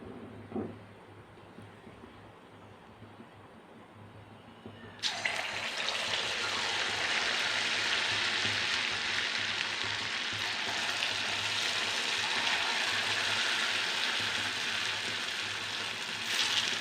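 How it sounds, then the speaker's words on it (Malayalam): Bonda batter dropped into hot oil for deep frying: a quiet stretch, then a sudden loud hiss as the batter hits, settling into a dense, continuous sizzle that holds to the end. "ഇപ്പം എണ്ണ ചൂടായിട്ടുണ്ട് ഇനി കുറേശ്ശെ മാവ് ഇതിലേക്ക് ഒന്ന് നുള്ളിയിടാം"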